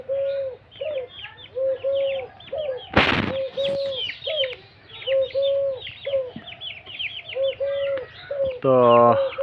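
A caged bird offered for sale calls repeatedly with short, sweet, cooing notes in an uneven rhythm, close by, with a brief louder burst partway through and a rising trill at the end.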